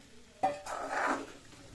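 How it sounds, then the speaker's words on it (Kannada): Vegetables being stirred into masala in a pan for veg kolhapuri: a sharp utensil clink against the pan, then a soft scraping, sizzling stir lasting under a second before fading. "ಇದಕ್ಕೆ ವೆಜಿಟೇಬಲ್ ಹಾಕೊಳ್ಳಿ ಪನ್ನೀರನ್ನು ಬಿಟ್ಟು ಬಾಕಿ ಎಲ್ಲ ವೆಜಿಟೇಬಲ್ನ ಹಾಕ್ಕೊಂಬಿಡಿ ಚೆನ್ನಾಗಿ ಮಿಕ್ಸ್ ಮಾಡ್ಕೊಂಬಿಡಿ"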